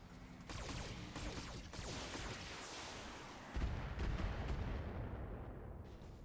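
Mech weapons fire in the BattleTech game as a continuous barrage of rapid gunfire and heavy blasts, dense and loud, ending in a deeper explosive thump before fading.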